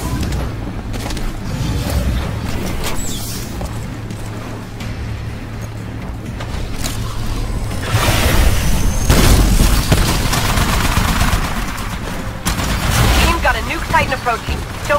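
Nuke Titans detonating near the harvester in the video game Titanfall's Frontier Defense mode on the Dig Site map: dense rumbling booms and crackling blasts that swell louder partway through, with a voice talking over the battle.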